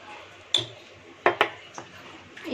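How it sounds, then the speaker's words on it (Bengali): Chicken is mixed with cornflour and egg in a bowl, heard as a few sparse, close clinks and taps of the utensil against the dish over quiet background. "কর্নফ্লাওয়ার, ডিম আর যা যা দিলাম সবগুলোকে ভালো করে মেখে নিতে হবে।"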